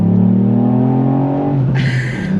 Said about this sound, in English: Take it all the way to the red line